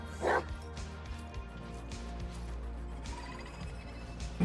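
Dog barking in a Warhammer 40,000 Necromunda-style video game, a short burst of yips near the start over a steady low game hum with faint background noise.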